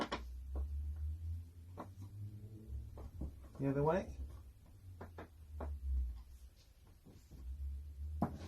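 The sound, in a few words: kitchen cabinet door being adjusted and closed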